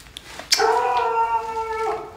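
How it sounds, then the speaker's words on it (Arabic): A dog lets out a single long, wavering howl close by, loud and sustained for nearly two seconds after a brief yip, with no talk over it. "الكلب كينبح بحال كان كيسمع ليا، تجاوب معايا."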